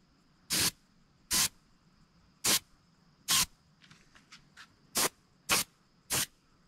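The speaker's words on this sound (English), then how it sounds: "Now I mist along the back with a gold pearl." Gold pearl paint misted in short spray bursts along the back of a crappie replica fish, seven sharp airbrush-like hisses with brief pauses between them, close and clear.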